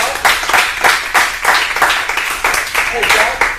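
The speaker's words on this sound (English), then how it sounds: "So give God Grateful Slor a big round of applause." A business mastermind meeting crowd applauds God Grateful Slor, the claps coming in a strong, regular rhythm of loud bursts, close and lively, with voices mixed in.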